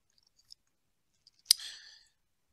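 A single sharp computer mouse click stands out near the middle, with a couple of tiny faint ticks before it, otherwise near silence.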